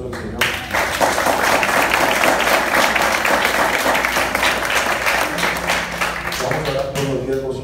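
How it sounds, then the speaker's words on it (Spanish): Loud, sustained applause from a church congregation, dense clapping that fills the whole stretch, with voices and cheers mixed into the crowd noise. "Dale fuerte aplauso al Señor."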